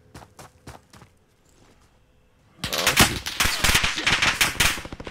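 Automatic gunfire in Call of Duty Warzone: a few sharp distant shots, a quiet lull, then a loud sustained burst of rapid rattling fire that keeps going to the end.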